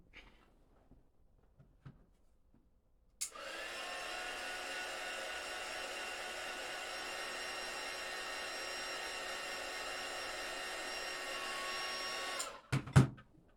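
A hair dryer drying paint on a small polar bear zipper charm switches on after a few quiet seconds, blows with a steady close whine for about nine seconds, then cuts off, followed by a couple of handling knocks.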